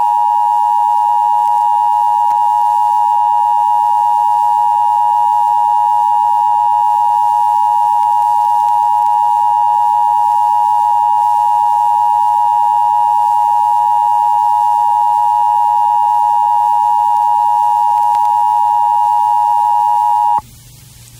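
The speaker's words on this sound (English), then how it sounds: "We interrupt this program for an emergency action notification. Important information will follow this tone." Emergency Broadcast System attention tone aired on an FM radio station in 1989: a steady, loud, continuous electronic tone holding unbroken for about twenty seconds, then cutting off abruptly.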